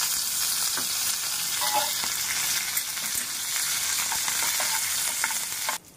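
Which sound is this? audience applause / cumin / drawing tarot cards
cumin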